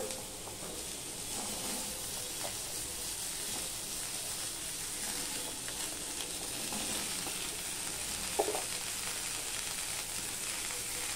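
Onions, garlic, green chilies and potatoes frying in a hot pan, giving a soft, steady sizzle and crackle with occasional faint stirring scrapes, fairly quiet and continuous.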